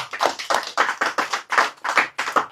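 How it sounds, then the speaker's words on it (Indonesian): An audience at a religious study gathering claps in a loose rhythmic pattern, about seven distinct bursts of clapping close to the microphone with no talking over it. "Tepuk tangan."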